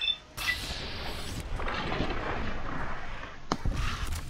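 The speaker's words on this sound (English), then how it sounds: "Let's give that pulse gun a try." A pulse gun fires in the video game Fallout, a heavy booming blast followed by a sustained rushing roar, with a second sharp burst near the end.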